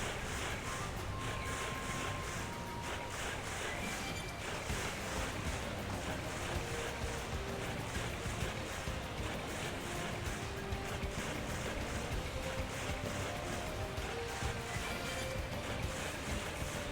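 Steady roar of rushing water from a waterfall in the video game Xenoblade Chronicles X, a broad constant wash of spray with a faint musical tone running through it and no talking.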